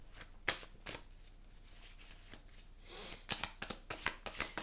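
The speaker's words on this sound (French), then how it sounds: "je vais aller chercher quelques cartes" Oracle cards being shuffled for a card reading: a run of crisp, rapid riffling snaps and flutters, close and fairly quiet, with no talking.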